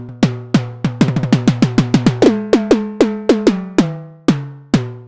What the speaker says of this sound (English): Another super fun sound to create is some timbales sound like this.